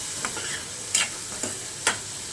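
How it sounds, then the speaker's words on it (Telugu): Green chillies and onions fry in a pan with a steady sizzle while a spoon stirs through them, leaving a few sharp scraping knocks over the hiss. "ఇప్పుడు పచ్చిమిర్చి ఆనియన్స్ వేద్దాం వేసాం కదండి ఇప్పుడు ఒకసారి కలుపుకుందాం"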